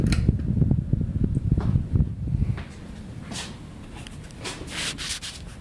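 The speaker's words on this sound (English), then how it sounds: "This fan's good for like the time being because it is still winter, so we'll power it down now." A King of Fans Helmsman 42-inch ceiling fan powering down, its close rumbling whir and rubbing motor noise easing to a quieter hum with faint scraping as it slows.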